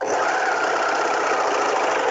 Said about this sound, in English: The thing about an overlocker serger is that you must always have a chain tail.